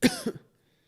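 A single close cough, followed by a short throat-clearing hack, then silence.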